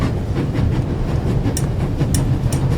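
Steady low rumble and rattle of a moving train on rails in the game The Raven Remastered, continuous and close, with a few brief metallic clicks standing out from the clatter.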